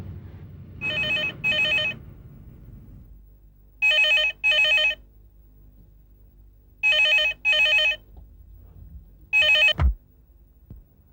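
A telephone rings in four double bursts, each pair of trilling rings separated by silence, the last cut short as it's picked up.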